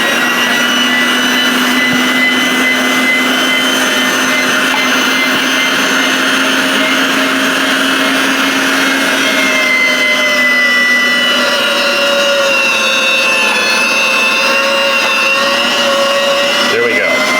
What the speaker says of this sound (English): I'm gonna grind this down and just get all that in there.